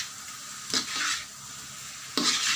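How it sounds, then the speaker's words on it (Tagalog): Banana cue with brown sugar stirred as it fries in a pan: a steady hissing sizzle broken by two or three loud scraping stirs, close up and without talk. "kailangan tuloy-tuloy lang yung halo nyo para hindi masunog"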